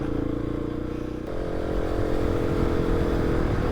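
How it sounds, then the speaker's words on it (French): A 450 rally motorcycle engine runs steadily and close, a low, even drone with a slight rise in pitch and loudness partway through, with no voices. "Là on a un 450, donc le moteur est plutôt doux, surtout en bas."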